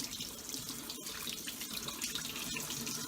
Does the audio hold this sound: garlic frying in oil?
no